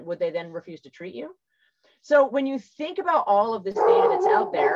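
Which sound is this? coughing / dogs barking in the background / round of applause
dogs barking in the background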